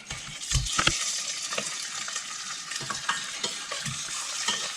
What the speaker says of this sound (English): we fry them a few minutes until they are nice and golden